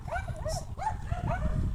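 A dog outdoors gives a series of short, rising yelping barks in a steady rhythm over rumbling background noise, moderately loud and fairly close.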